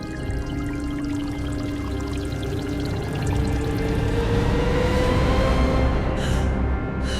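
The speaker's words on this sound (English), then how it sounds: "She pours the water, but the sound is flat, like a recording of a memory." Water pours in a kitchen as a continuous stream whose tone slowly rises as the vessel fills, set against a low, steady rumbling drone.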